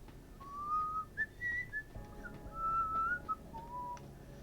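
Characters whistling a melodic tune in the video game Deus Ex: Human Revolution Director's Cut, one clear, wavering whistle rising and falling through several phrases over a quiet background.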